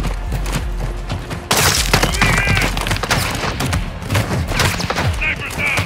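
Gunfire in Call of Duty Modern Warfare II in cartel territory: rapid, close bursts of automatic and single shots crack repeatedly with sharp impacts and a heavier surge partway through, over a busy battle din.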